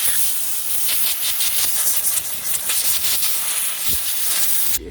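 Carburetor cleaner is sprayed from an aerosol can onto a BMW E36 power steering pump during a rebuild, a loud continuous hiss in short pulsing bursts that cuts off abruptly at the end.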